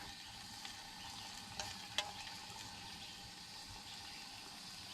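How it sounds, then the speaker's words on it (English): Sausage and barley fry in a metal canteen cup over a camp heat source, giving a steady low sizzle and crackle throughout with a couple of faint clinks and no talking. "we're going to let that fry up a few minutes"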